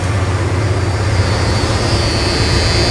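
A rebuilt 360 engine idling at roughly 900 to 1,000 RPM, a loud, steady low rumble with a faint high whine above it, continuous with no talk.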